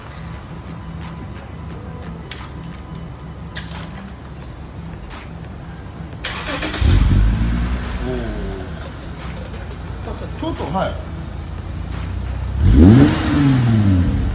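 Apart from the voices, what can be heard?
Toyota Crown engine revving through Three Cats muffler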